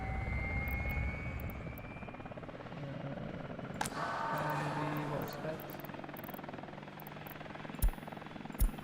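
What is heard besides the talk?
firefighting helicopter from video game Workers & Resources: Soviet Republic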